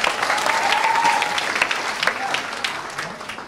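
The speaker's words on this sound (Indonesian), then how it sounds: "Tepuk tangan buat Gerindra." Audience applause for the Gerindra party at an Indonesian political event, steady dense clapping from a large crowd filling the whole stretch without a break.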